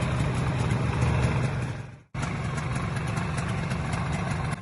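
A Kawasaki KH 250 transverse three-cylinder two-stroke motorcycle engine runs close by, a steady loud idle that cuts out abruptly for a moment and then resumes at the same even level, with no talking.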